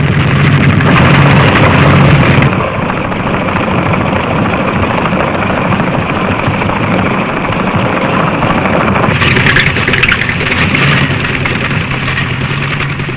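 A faulty car engine runs roughly as the driver keeps lifting off and pressing the accelerator, a loud, dense, continuous roar with surging rises and dips that covers the whole stretch, with no voices.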